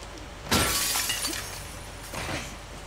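Glass shatters in The Last of Us Part II, a sudden crash of breaking glass followed by tinkling fragments and a second, softer crunch of glass a moment later.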